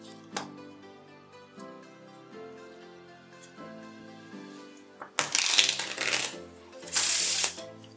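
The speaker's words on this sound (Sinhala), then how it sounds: "ඉතින් ඒකට මම ඉස්සෙල්ලාම කාඩ් පැක් එක හොඳට ෂෆල් කරගන්නවා." A deck of playing cards being shuffled for a magic trick: soft riffling and sliding at first, then two loud, dense bursts of rapid card flutter up close near the end.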